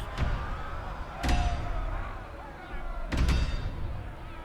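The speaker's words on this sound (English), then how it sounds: "The door in front of you pulsates as figures unseen bang against it." Unseen figures pound against a door in a Scarlet Hollow horror game scene: two heavy, booming thuds about two seconds apart, loud and close, over a dark rumbling ambience.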